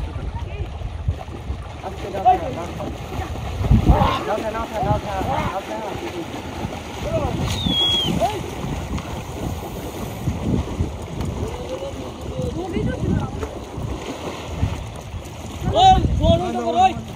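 A boat moves along the Jamuna river while cattle are brought home through the water, giving a steady low rumble with wind and splashing underneath near voices talking throughout.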